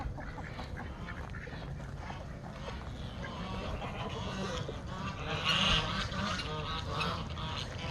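Geese honking from a backyard poultry flock kept with chickens, a rough, steady chorus of calls that swells louder near the middle, heard alone without talk.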